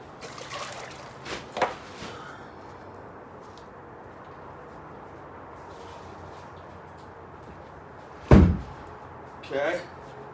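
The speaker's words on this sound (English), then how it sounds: "Let's open up this door." A door being opened outdoors while feeding feral cats: a few short knocks and clatters early on, then a loud sharp bang near the end and a softer thud after, with quiet background between.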